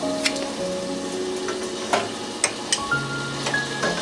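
Ghee melting and sizzling in a pan before chicken pieces go in, a continuous close frying hiss with a few sharp ticks and pops and no voices.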